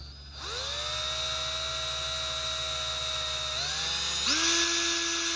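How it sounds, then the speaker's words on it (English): A high-pitched cordless drill whines steadily, its motor pitch shifting upward twice as it bores into a plastic ground effect part, loud and close with no talking. "Now let's see if I can drill this straight."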